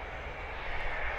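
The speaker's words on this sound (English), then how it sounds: "that's the sound of a Cessna Citation" Cessna Citation 560 private jet at Blackpool Airport, its engines giving a steady, loud, continuous roar that swells slightly toward the end, with no talking.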